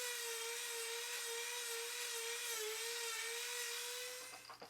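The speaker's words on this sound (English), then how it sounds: "take my Dremel with a small buffing wheel and some polishing compound and put a nice shine on each fret" A Dremel rotary tool with a small buffing wheel and polishing compound whines at a steady high pitch while shining the frets of a Precision Bass, constant and close, winding down at the end.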